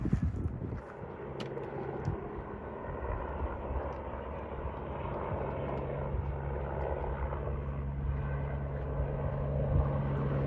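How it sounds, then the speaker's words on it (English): A steady low engine drone with a humming tonal line runs near a beach campsite, holding fairly even for about ten seconds without clearly fading, with no talking. "That's it, engine's winding down."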